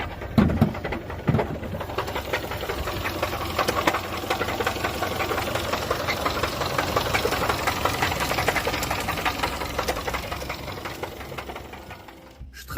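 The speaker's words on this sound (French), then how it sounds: "Cette voiture est arrivée avec son moteur qui sonnait comme le jeu Jumanji." A car engine with a knocking fault, likened to the drumming of the Jumanji game, runs steadily with a dense rapid clatter and mechanical rattle, fairly close and continuous until it fades near the end.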